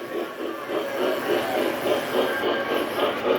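Trains rolling past at the York Halloween train display, a steady rhythmic clickety-clack of wheels over rail joints, fairly close and continuous for the whole stretch with no talking.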